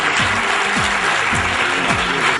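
A steady, dense wash of audience clapping fills a hall at a school event, heard loud and close, with a repeating mechanical sweep running beneath it.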